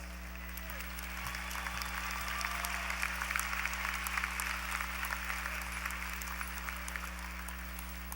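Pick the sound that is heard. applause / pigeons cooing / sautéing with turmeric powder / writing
applause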